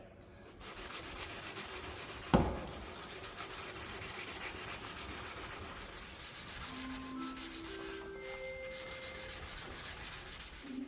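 Continuous rubbing and scraping of sandpaper against a car headlight, wet sanding, steady and close, with a sharp knock early on and a few faint tones later.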